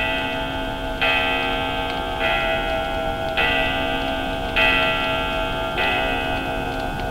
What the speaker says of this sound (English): And grandfather clocks.